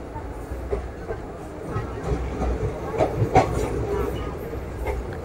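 Narasapur express train running on a loop line at Nidamanuru station while overtaking a goods train on the main line, a steady rumbling ride noise with light clatter and scattered clicks, with a voice talking over it.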